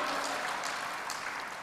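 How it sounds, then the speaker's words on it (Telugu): Church congregation clapping in praise during a sermon, a steady dense patter of many hands filling the space at moderate level without talk. "చప్పట్లు కొట్టి దేవుని స్తుతిద్దాం"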